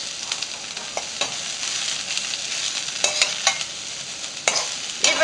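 Cabbage and carrots sauté in a pan with a steady sizzle, a spatula stirring and scraping through the vegetables in a string of quick strokes, close and fairly loud.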